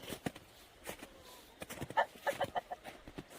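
Chickens clucking softly nearby on a farm in winter, a scatter of short, irregular clucks and low calls over quiet background noise.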